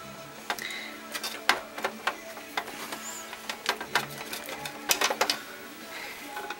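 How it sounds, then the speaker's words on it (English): Small screws being backed out of a processor heatsink with a screwdriver, a string of close, sharp ticks and scrapes in an irregular rhythm. "So we're just going to unscrew those screws."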